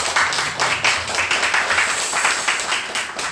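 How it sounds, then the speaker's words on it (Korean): A church congregation at a Sunday service claps together in welcome, rhythmic, fairly loud group clapping in a steady pulse from start to finish. "우리 박수로 환영하고"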